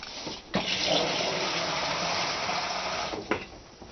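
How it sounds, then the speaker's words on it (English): Water poured into a bowl for pineapple cake batter while cooking outdoors over coals, a steady rushing splash lasting a few seconds, framed by short knocks at the start and end. "we'll start with some water."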